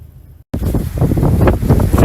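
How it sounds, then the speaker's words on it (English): Strong wind outdoors during a Texas winter freeze buffets the microphone with a loud, continuous roar and gusting rumble after a brief moment of near silence at the start. "It's really windy out here"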